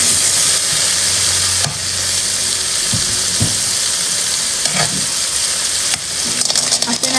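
Ginger and tomato sautéing in a hot pan, with a loud, steady sizzle and occasional scrapes and clinks of a utensil stirring, close up.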